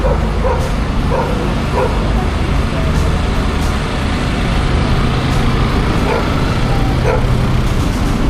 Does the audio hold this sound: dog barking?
yes